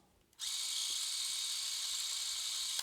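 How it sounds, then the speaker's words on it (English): The spinning mechanism of an Elmo Super 8 film camera starts abruptly once the shutter is pressed, then keeps up a steady, close, high-pitched motor whir until it cuts off at the end. "So when I hit the shutter button, it'll start spinning."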